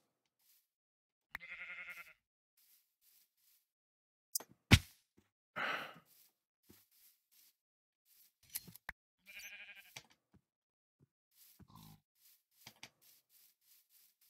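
Sheep bleating in a nature-themed video game, several short nasal bleats spaced apart amid quiet gaps, with scattered clicks and snips between them and no talk over the calls.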